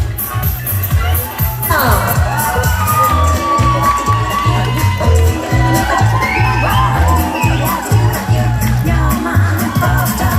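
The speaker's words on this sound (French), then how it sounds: "Allez, on applaudit encore Sophie." A large crowd at a Miss Rock'n Guinguette beauty pageant in Harmignies cheers and shouts loudly, with whoops and excited voices over steady clapping and a pounding music beat.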